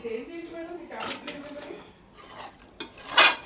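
Mutton talakaya curry being dished out of a pot, with metal utensils scraping and clinking a few times close by, ending in a sharp clatter, while a person talks.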